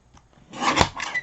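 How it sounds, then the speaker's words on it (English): A paper trimmer slicing through cardstock, a single short rasping cut that swells and fades, close and fairly quiet. "I'm just going to bring my trimmer in and just trim probably that much off."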